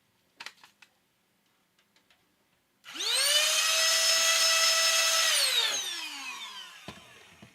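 An air blower used for controller repair spins up with a rising whine, runs steady and loud for a few seconds, then winds down, after a few faint clicks and taps.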